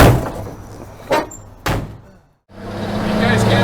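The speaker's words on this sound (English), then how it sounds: "Hey, the door works." A fire truck door shuts twice in quick succession, two sharp close thunks, and then an idling engine rumble rises over background noise.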